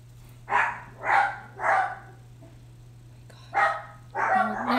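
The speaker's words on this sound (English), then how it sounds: "She barks at him barking." A dog barks in five loud, close, evenly spaced bursts, three in quick succession, a pause, then two more, over a steady low hum.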